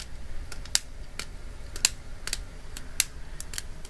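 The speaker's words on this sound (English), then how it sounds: "it clicks on that when it goes from one side to another" Small plastic clicks from a joint of the RE/100 Calamity Gundam model kit being worked side to side, sharp, close and fairly faint, coming in an uneven series of about a dozen ticks over a quiet background.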